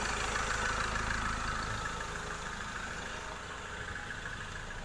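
A car engine idles steadily, a constant mechanical rumble with a faint ticking texture and no voices.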